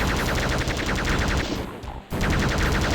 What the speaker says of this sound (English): And we're gonna use the plasma gun on her.